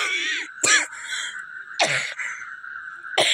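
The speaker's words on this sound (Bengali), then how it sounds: "যখন হচ্ছে একেবারে টানা কন্টিনিউ কিছুক্ষণ হতেই থাকছে একটা কাশিটা" Three separate harsh coughing bursts, close and loud, spaced about a second apart in a persistent bout during cold winter weather, with no talk.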